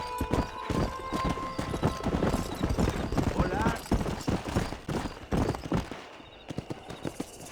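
Rapid clip-clop of horse hooves galloping in Red Dead Redemption, loud and close and continuous, with a horse whinny, voices talking over the hoofbeats and a few distant shots.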